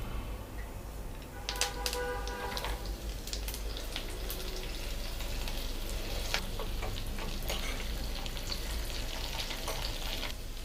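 Millet pongal ingredients fry in ghee in a pan, a steady sizzling hiss close by, broken by sharp clinks and scrapes of a spoon stirring against the vessel.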